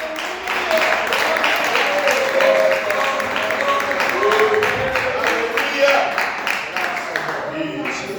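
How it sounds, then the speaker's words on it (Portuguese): A church congregation applauds in a sustained, loud wash of clapping, with a voice and tonal sound carrying over the top. "aplaude bem forte ao nome do Senhor Jesus"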